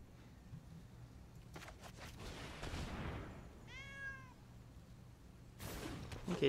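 A cat gives a single short meow, faint and slightly distant, amid quiet outdoor rustling and a few soft knocks.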